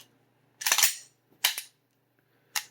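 An FN FNP 9 pistol's trigger clicks sharply three times at close range, each snap followed by a short reset and clear silence between them.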